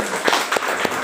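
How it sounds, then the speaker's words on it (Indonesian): Brief, scattered audience applause during a medical lecture on autoimmunity, with a handful of separate claps standing out in just over a second, fairly close and moderately loud. "Boleh minta tepuk tangannya?"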